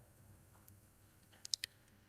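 A computer mouse gives three quick sharp clicks close together, near and crisp over a quiet room hum, with no talking.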